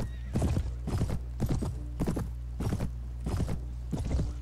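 Horse hooves clip-clop in a steady, loud rhythm of about eight evenly spaced strikes in Mount and Blade Warband, heard up close with no talking over them.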